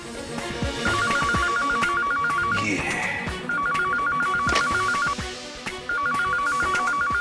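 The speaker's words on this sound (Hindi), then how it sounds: "लेकिन बेल तो बज रही है।" A telephone rings in three repeated bursts of trilling tones, with voices and busy background noise underneath.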